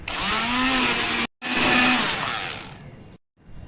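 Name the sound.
blender blending cooked vegetables with salt and pepper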